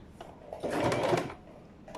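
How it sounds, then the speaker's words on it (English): Sewing machine stitching a zip, a short burst of steady mechanical whirring that swells in the middle and fades, with softer clicks before and after. "So one by one you remove the pin and then you keep sewing."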